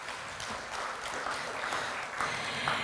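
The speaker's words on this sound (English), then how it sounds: "Let's give them another big round of applause." A crowd at an official Pacific employment event in Fiji claps after a performance, with a continuous, moderately loud wash of applause holding steady to the end, and no voices over it.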